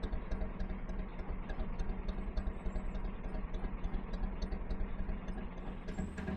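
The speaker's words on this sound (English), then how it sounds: "I do like the rhythm of the engine." A narrowboat engine runs on a canal, a low, steady thudding chug with a fast even rhythm, fairly quiet and heard alone without talk.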